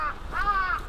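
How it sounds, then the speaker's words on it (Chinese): Crows calling in Japan, two harsh caws close by, a short one followed by a longer drawn-out call. "日本乌鸦超多的，特别喜欢叫。"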